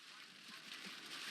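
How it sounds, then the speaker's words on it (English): Heavy rain pours down during a tornado, a dense steady hiss that fills the whole clip, broad and unbroken, with no distinct voice standing out. "Yeah, no, Damon, there's so much rain, you can't see it"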